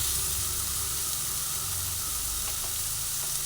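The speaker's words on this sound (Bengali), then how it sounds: "এর মধ্যে দিয়ে একটু ভালোভাবে নাড়াচাড়া করে কুমড়োগুলোকে আমি ভেজে নেব" Grated pumpkin frying in a pan for spicy pumpkin fritters gives a loud, steady, continuous sizzle and hiss, close up and alone with no talking.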